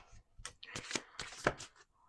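A deck of playing cards being shuffled in a series of quick riffling bursts, close and fairly loud, with no voices over it.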